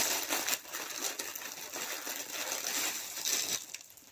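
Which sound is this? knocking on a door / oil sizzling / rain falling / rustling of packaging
rustling of packaging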